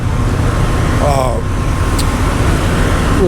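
Loud rumbling of big trucks idling and moving close by at a large truck stop, a low engine drone with a brief higher whine over steady traffic noise.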